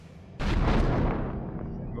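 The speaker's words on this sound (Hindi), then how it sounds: "जोरदार धमाका होता है" A sudden loud blast bursts in after a quiet moment, then rumbles and slowly fades over the next second and a half.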